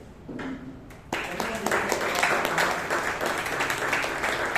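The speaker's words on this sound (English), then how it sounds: "So let's applause for Priyanka Ramare" Audience applause at a Bangalore Toastmasters club meeting, starting faintly then swelling abruptly after about a second into sustained, dense clapping with some voices mixed in.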